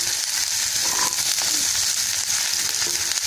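Chopped onion and green chili sizzling in hot oil with mustard seeds, a steady close frying hiss with faint crackles throughout and no talking.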